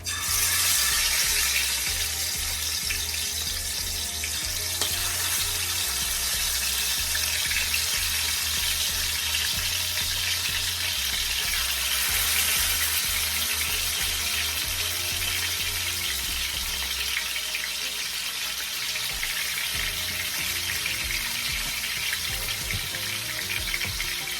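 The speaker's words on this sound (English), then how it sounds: "now my oil is hot. Let's go ahead and add our chicken to fry" Chicken legs fry in hot oil with a loud, steady, close sizzle and crackle that stays constant throughout, with no one talking.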